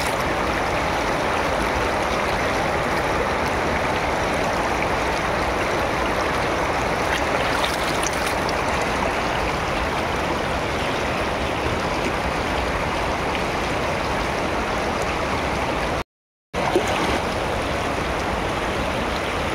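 An icy mountain river in Uttarakhand, India, rushes in a steady, dense roar of flowing water, loud and continuous throughout with no voices, broken only by a momentary dropout near the end.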